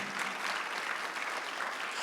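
A church congregation claps together during a Sunday worship sermon, a dense, steady wash of many hands filling the room at close range for the whole stretch, with no voices standing out.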